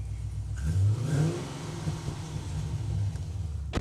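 A 6.2 litre V8 car engine with 56,000 kilometres on it revs loudly up close, its deep roar rising in strong surges and settling back between blips.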